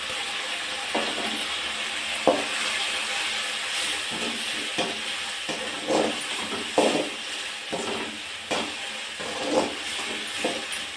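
Onion, tomato and green capsicum frying with ginger-garlic paste in a pan, a steady broadband sizzle with repeated scraping stir strokes every second or so, close and fairly loud, no talking.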